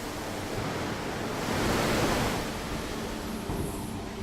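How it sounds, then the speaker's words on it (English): High-pressure water spray at 160 bar descaling hot steel before rolling in a steel mill, a steady loud hiss and rush that swells briefly in the middle, with no talk. "In order to cleanse the surface, water is sprayed at high pressure,"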